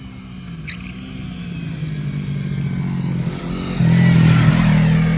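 A mini motorcycle, an R3 mini moto, accelerating as it swings wide around a corner, its engine droning and rising in pitch, growing louder and nearer before a sharper throttle surge near the end.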